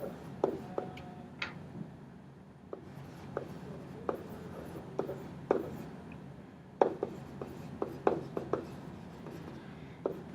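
Pen strokes scratch across a surface while an exponent rule is written out during an algebra lesson, a quiet run of short taps and scrapes repeating irregularly with small pauses, no voice.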